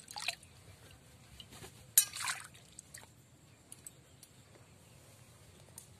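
Water drips and splashes softly as washed pointed gourds are lifted out of a bowl, a few faint trickles with one brief, louder splash in the middle, close and quiet, with no speech.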